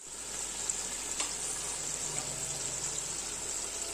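Kebabs frying in a pan give off a steady, close sizzle that holds level throughout, with faint stirring clicks now and then.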